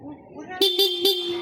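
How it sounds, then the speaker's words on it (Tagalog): Stock horn of a Sniper 155 motorcycle sounding three short, close beeps in quick succession, with faint background noise before them. "sa busina, stock horn pag nakalubog."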